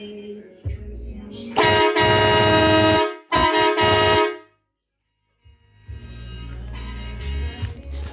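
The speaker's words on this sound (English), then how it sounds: "And then there's the triple horn setup." A triple air horn fitted to an electric scooter blasts loud and close in two long honks with a short break between them, then stops dead before a lower engine-like hum rises afterward.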